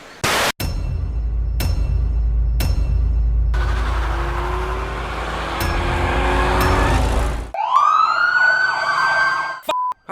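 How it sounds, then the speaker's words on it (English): A police siren in The Handmaid's Tale episode "Offred" follows a heavy, loud rumbling build-up with sharp impacts. It then wails in close, loud rising and falling sweeps before cutting off abruptly. "How about a fade-in siren"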